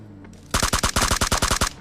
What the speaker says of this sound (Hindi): आगे से AWM का शॉट आ रहा था।